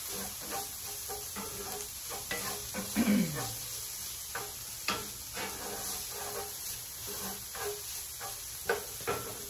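Garlic sizzles in a pan for dirty rice with shrimp, a moderate constant frying hiss with occasional scrapes and taps of a utensil, no talking.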